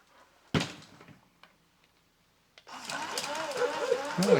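Motor of a 2001 Mattel radio-controlled Goddard toy robot dog straining against a strong spring as it hops, a sharp knock, then a buzzing, whirring mechanical grind with springy clatter, close up.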